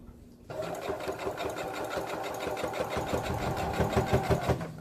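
A sewing machine runs steadily as it stitches a pillow seam, its fast, even mechanical chatter starting abruptly after a brief quiet moment and continuing close and loud to the end.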